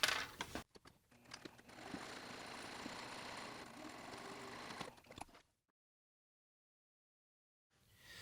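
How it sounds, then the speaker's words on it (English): A sewing machine stitches along the bottom of a pants pocket bag, a steady mechanical whir with faint rhythmic clatter running for about five seconds, moderately quiet, then stopping into silence. "I like to come back and do a second layer of stitching just along the bottom of the pocket here"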